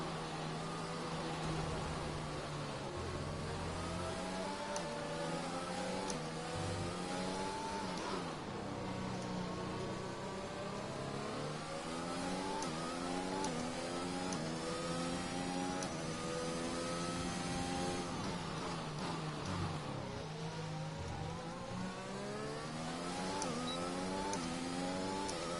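Engines of Ferrari race cars in a racing video game at Bahrain, a steady layered whine with rising and falling harmonic sweeps as revs climb and drop through gear changes, continuous and moderately loud throughout.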